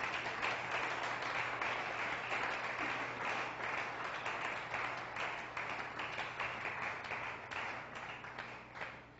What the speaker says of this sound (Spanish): Démosle un fuerte aplauso al Espíritu Santo.